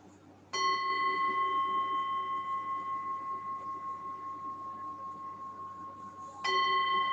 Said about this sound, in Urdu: چند لمحوں میں ایک بار پھر بیل یا گھنٹی بجاؤں گا